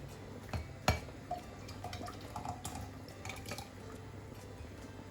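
Xanthan gum liquid stirred in a beaker for a homemade turmeric face wash. It gives soft liquid swishes and a few faint clinks of glass, with one sharper tap near the start.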